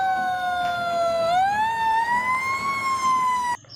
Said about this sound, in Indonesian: Ini truk pemadam kebakaran.